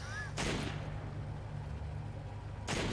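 Two loud bursts of gunfire ring out in a zombie video game, one near the start and one near the end, with a quieter stretch between them.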